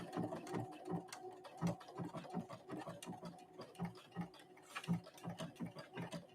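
A Brother Innovis 1500D sewing machine runs a decorative stitch, its needle tapping out a steady, fast mechanical rhythm close by with no talk.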